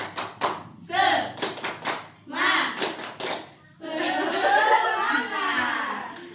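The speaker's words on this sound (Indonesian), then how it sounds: "kita beri tepuk semangat" A group of women in a training session claps out a patterned 'tepuk semangat' spirit clap. Bursts of rhythmic group claps come first, then a sustained wash of clapping and cheering, with some voices mixed in.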